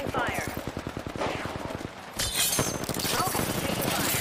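Rapid automatic gunfire rattles in steady bursts during an Apex Legends match, loud and continuous, with a player talking over the shooting.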